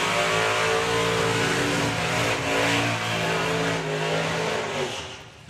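Supercharged drag racing car doing a burnout, a loud, harsh engine roar with strong stacked harmonics, held high and wavering before dropping off near the end.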